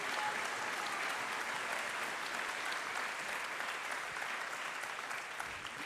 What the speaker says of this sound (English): Let's give him another clap.